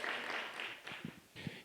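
Applause from a conference audience for a speaker on stage, a broad patter of clapping that thins out near the end, with brief low voice murmurs mixed in.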